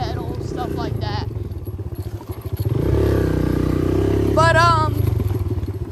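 A dirt bike engine runs steadily during an evening ride, a loud continuous drone that swells and holds strong midway, with someone talking over it throughout.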